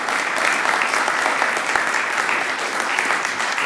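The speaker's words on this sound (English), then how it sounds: "Join me in applauding Trevor as he comes forward." An audience applauds Trevor Elliott at a housing rights and homelessness event, a dense, steady wash of clapping from many hands sustained at even loudness throughout, with no one speaking over it.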